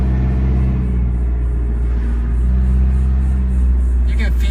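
A race car engine on a test drive holds first gear with a deep, steady rumble heard from inside the car, loud and continuous, and voices speak over it.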